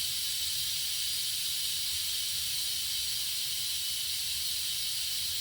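Steady, loud hissing of steam escaping from a pressure cooker during quick release, continuous and unbroken throughout with no other sounds.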